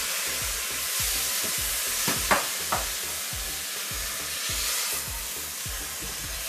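Ground beef fries in a hot pan with a steady close sizzle and hiss, broken by a few sharp crackles and light stirring, with no voices.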